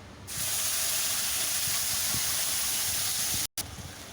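A spice paste hits hot oil already sizzling with whole cumin, dried red chillies and bay leaf, giving a loud, steady frying hiss that rises quickly and holds, with a brief cut near the end.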